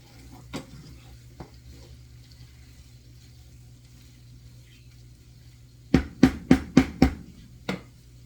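Ground beef browns in a pan over a low, quiet hum, then a spatula strikes the pan in a quick run of five or six sharp clacks, followed by one last tap.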